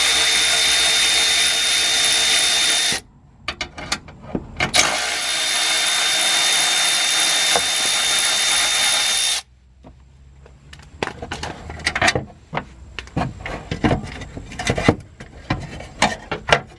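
A power tool removes the 10 mm bolts holding the fog lights on a 3rd Gen Cummins truck, whining loudly in two long runs, followed by scattered clanks and rattles of metal parts being handled.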